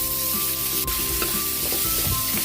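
Chopped onions and tomatoes sizzling as they are sautéed with garlic for a Filipino mung bean stew, a steady frying hiss with scraping stirs and a few sharp clinks of a utensil against the pan.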